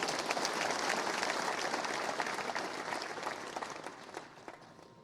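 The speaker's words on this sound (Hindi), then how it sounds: "यदि लगता है तो एक बार तालियां बजा दीजिए तो मैं मान लूंगा" A crowd at an outdoor political rally in Madhya Pradesh addressed by Defence Minister Rajnath Singh applauds: broad, dense clapping that gradually fades over several seconds, with no speech over it.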